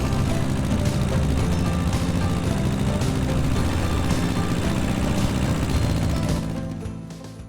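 A tractor engine runs with a steady, loud mechanical drone on a windy rural property in Portugal, fading toward the end with no speech.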